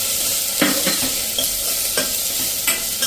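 Spice masala and chopped chili fry in oil left over from cooking okra. A steady, close sizzle runs throughout, with a few sharper scraping bursts as the mixture is stirred.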